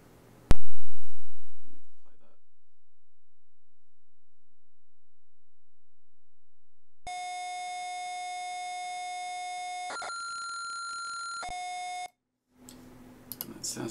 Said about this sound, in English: Sounds just like a CPC tape.